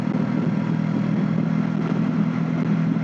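A Kawasaki NX500 motorcycle engine drones steadily while riding, a loud, even mid-pitched hum with constant road and wind noise and no speech.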